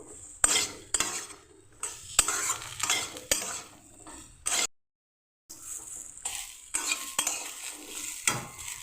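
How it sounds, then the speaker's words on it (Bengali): A spoon scrapes and stirs moong dal frying with turmeric powder in a pan, giving repeated clinks and sizzling strokes, a short silent gap, then more stirring. "হলুদ গুঁড়ো দিয়ে আরও কিছু এটাকে আমি নেড়ে নেব।"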